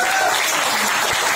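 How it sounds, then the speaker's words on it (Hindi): Loud, dense applause from a crowd at a Hindi comic poetry gathering in Mandsaur, Madhya Pradesh, a continuous roar of clapping close up, with a faint voice beneath it. "आपकी पी हुई फेंटा की रकम आप इनके लिए जोरदार तालियां बजाइए।"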